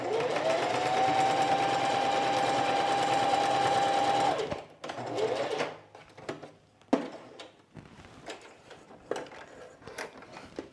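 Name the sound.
sewing machine quilting a jacket without a walking foot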